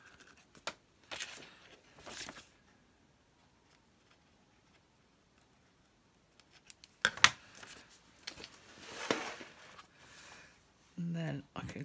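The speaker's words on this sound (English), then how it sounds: "Trim off that excess tape." Scissors trim excess tape overhanging a paper page edge, giving clusters of quick, soft snips and rustles between quiet pauses, with a brief voice at the very end.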